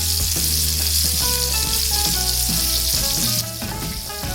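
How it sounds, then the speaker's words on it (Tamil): Anchovies (nethili) frying in a pan of hot oil, a loud continuous sizzle close up with crackling spatters throughout. "இப்போ பாருங்கள், அது புரிகிற சவுண்டு அட்டகாசமாக வரும் பாருங்கள்."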